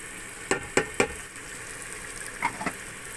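Dry ground spices, including coriander powder, fennel and black pepper, roast in a pan under a soft, low sizzle, with a few sharp spoon clinks and scrapes coming in quick clusters.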